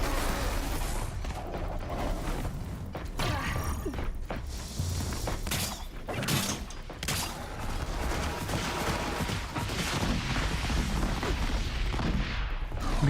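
Explosions in Horizon Zero Dawn Remastered, Frozen Wilds, with repeated booms and crackling blasts among clanking mechanical combat noise, dense and continuous throughout.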